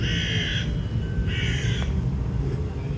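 Crows cawing in a horror-themed roller coaster queue at an amusement park, several harsh caws in two clear bursts over a steady background hum of ambient noise.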